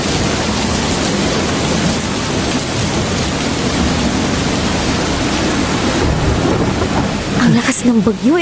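Heavy rain pours down in a steady, dense roar during a thunderstorm, with low thunder rumbling throughout and a brief burst of voices near the end.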